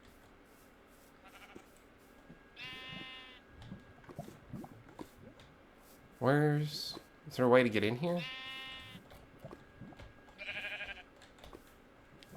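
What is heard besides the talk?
sheep bleating in Minecraft video game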